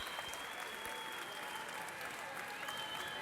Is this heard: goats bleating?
no